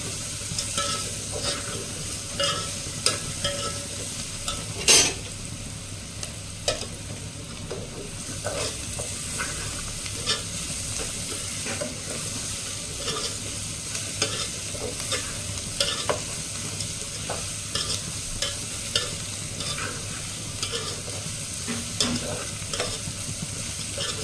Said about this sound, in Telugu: కాస్త వేగనిద్దాము.